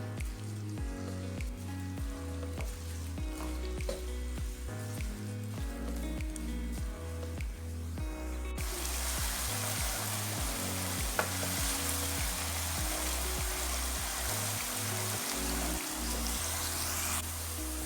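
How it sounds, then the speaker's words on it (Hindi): Chopped onion and green garlic frying in about half a bowl of oil on a gas stove, giving a steady close sizzle that grows brighter and louder halfway through and continues without a break, with no talking. "प्याज और लहसुन ब्राउन हो चुके हैं।"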